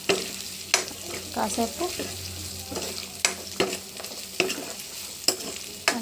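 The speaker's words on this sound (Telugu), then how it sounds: "ఆ ఉడికిన పప్పుని మనం దీంట్లో కలిపేసేసుకొని మగ్గించుకుంటే" Cooked dal stirred into cucumber in a pan, with a steady close sizzle and repeated scraping stir strokes, and faint speech briefly in the background.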